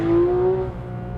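A Porsche 911 GT3 engine holds a high, tonal note that eases slightly before fading into a lower rumble, loud and close, as if the car is pulling away or lifting off.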